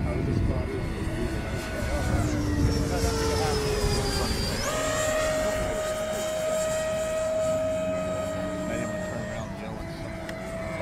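An electric RC F-18 model jet flies at an electric model aircraft festival in Arizona, its steady ducted-fan whine sweeping in pitch as it passes, with people talking faintly in the background.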